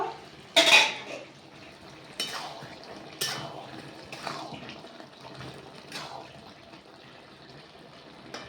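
A metal lid comes off a pot of lentils with bottle gourd and potatoes in one sharp, close clang, followed by a few lighter, scattered metallic clinks and taps in an otherwise quiet kitchen.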